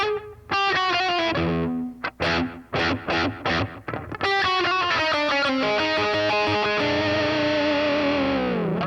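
Electric guitar through a BOSS Katana MK2 with analog delay gives a thin, nasal, megaphone-like distorted tone, with choppy staccato notes followed by longer sustained phrases that repeat with echo.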